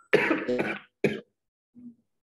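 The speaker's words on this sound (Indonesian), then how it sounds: "Maaf saya batuk-batuk." A person coughs twice in a quiet room during an online class, two harsh bursts followed by a faint throat clear.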